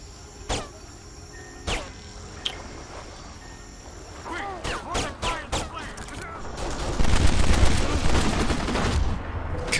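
Silenced pistol fire in the shooter game Kane & Lynch: Dead Men, a few sharp suppressed shots spaced early on, then a quick burst of rhythmic gunfire building into louder, denser combat noise near the end.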